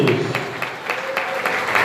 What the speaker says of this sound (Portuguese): Dá aquela linda salva de palmas